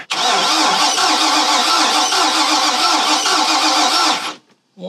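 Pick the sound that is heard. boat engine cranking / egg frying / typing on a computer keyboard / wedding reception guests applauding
boat engine cranking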